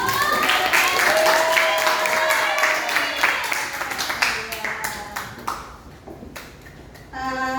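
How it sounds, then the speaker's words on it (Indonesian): Students in a class applaud together, a busy crowd of hand claps thinning out to scattered single claps, with voices and a sharp ping-like tone near the end. "Tepuk tangan."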